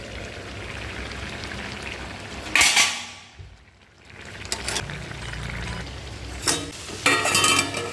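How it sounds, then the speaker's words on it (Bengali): Fish curry and a second curry cook side by side in two pans, giving a steady rain-like sizzle and bubbling broken by a few sharp clatters of utensils against the pans. "এদিকে দুটোতে দুটো তরকারি রান্না হচ্ছে মাছের ঝোলটা প্রায় হয়ে এসেছে"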